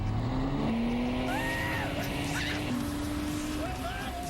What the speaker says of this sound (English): We told people they were riding in Nissan's most advanced Altima race car.